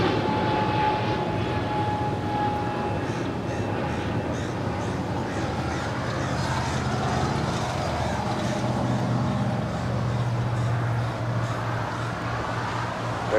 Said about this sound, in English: United 757, now rolling down 25 right